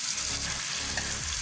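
Masala spice paste sizzling steadily in a pan while cooking for an aloo murghi curry, a close, continuous crackling fry with no pauses and no voices.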